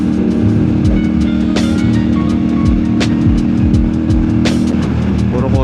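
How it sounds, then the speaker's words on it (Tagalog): Car running alongside on an open road in Tagaytay, heard over the steady drone of a nearby motorcycle engine with wind rush and a few sharp bumps or clicks. "Kotse kasabay natin ito pag-uwi."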